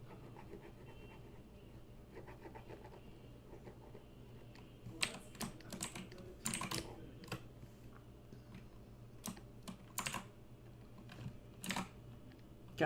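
Keys clatter on a worn computer keyboard at a desk, irregular bursts of close, crisp clicks and taps that come in quick clusters over a low background hum, with no talking.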